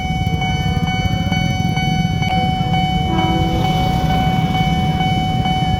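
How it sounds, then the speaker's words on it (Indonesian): A KRL commuter train bound for Jakarta Kota rumbles past a Citayam level crossing steadily and close, with a constant low roar, bright tonal ringing and clanking wheel beats, and no talking. "Kereta yang mau lewat."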